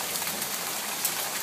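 A hailstorm in Tempe, Arizona pelts surfaces with a dense, steady hiss of countless tiny impacts, loud and close, with no voices over it.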